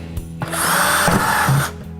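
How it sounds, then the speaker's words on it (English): A power drill bores a hole through the plastic bottom of a 5-gallon bucket, one loud, close whining burst of about a second and a half with a rising grind and no talk. "we're going to drill a series of holes in the bottom of the bucket"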